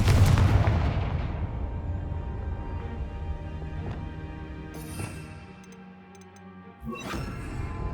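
A Confringo spell goes off in Hogwarts Legacy with a heavy booming explosion at the start that decays into a long rumble, followed by smaller cracking impacts and a sharp burst near the end.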